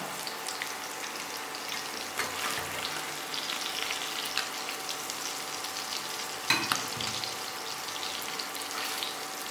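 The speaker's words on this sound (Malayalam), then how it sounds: "അപ്പോൾ നമ്മൾ മീൻ വറുത്ത് നല്ലോണം എടുത്തിട്ടുണ്ട്" Fish frying in hot oil for a Sri Lankan fish curry gives a steady, dense sizzle with crackling pops and a few louder spatters and stirring clatters, close and continuous with no talking.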